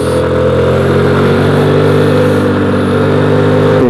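A Dafra Laser scooter engine fitted with 10-gram variator rollers and a worn 18.3 belt revs steadily high, a loud, continuous buzzing drone with strong harmonics that holds its pitch without gear changes.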